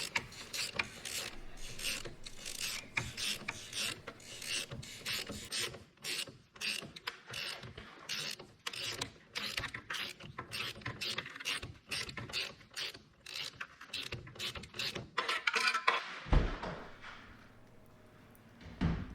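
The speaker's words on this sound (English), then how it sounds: "Undo the steering coupler pinch bolt and nut." A hand ratchet clicks rapidly in repeated bursts while undoing the steering coupler pinch bolt and nut on a Mercedes-Benz, close and clear, ending in a few heavier metallic knocks and a low hum.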